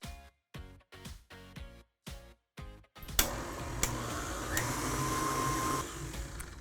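An electric mixer starts and stops in several short bursts, then runs continuously and loudly, a steady whirring drone beating brown butter chocolate chip cookie dough in a bowl.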